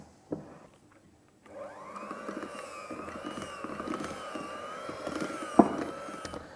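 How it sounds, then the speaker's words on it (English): An electric hand mixer whips buttercream, starting after a soft knock and brief quiet, then holding a steady mid-pitched whirring drone with rising intensity and a sharp clack near the end, close and without talk. "so I'm going to turn to the electric hand mixer"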